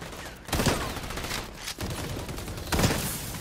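Video game gunfire in the multiplayer shooter XDefiant, with three loud bursts of shots near the start, middle and end. Dense crackling fills the gaps between them, and no one talks.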